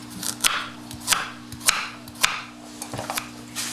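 A knife chopping preserved mustard leaves on a board for rice, a steady series of about eight crisp, evenly spaced chops over a low steady hum, no talking.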